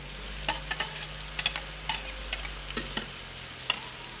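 Tomatoes, chilli and ginger frying in a pan for a chicken dish, a soft steady sizzle with a series of light clinks and taps of a spoon stirring, close and fairly quiet, with no talking.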